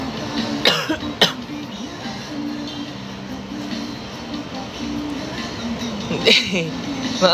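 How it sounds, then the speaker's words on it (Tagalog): Several sharp coughs break out early and again near the end of a morning live stream, close to the microphone over a steady low background hum. "Maaga pa kasi, tsaka inuubo ako eh"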